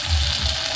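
Onion fries in oil alongside posto spice paste, giving a brief, steady sizzle with a soft crackle close by.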